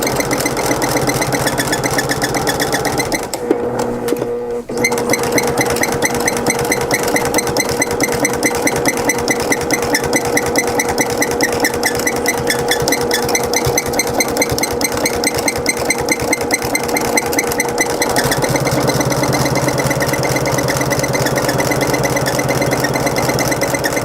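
A sewing machine stitches a rag quilt seam with a steady, rapid mechanical chatter that runs nearly the whole time, pausing briefly once before resuming at an even pace, close and loud.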